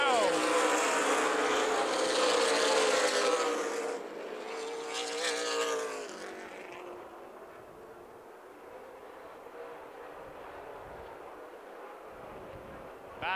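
Stock cars racing in the ARCA/CRA Super Series 7-Up 100 at Toledo Speedway, engines roaring loudly past at first and then fading to a steadier distant drone beneath a race commentator's voice.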